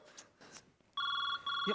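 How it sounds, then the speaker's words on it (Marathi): Telephone bell ringing loudly in two bursts with a short gap, indoors, following a little faint talk. "मम्मीचा फोन आहे"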